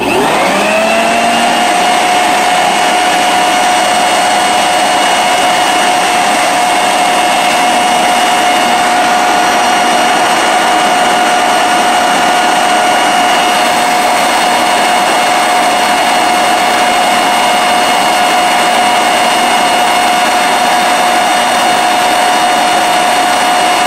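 A cheap Black & Decker leaf blower spins up fast and holds a loud, steady whine with a constant motor pitch for over twenty seconds, heard from about 8.5 feet away with no talking.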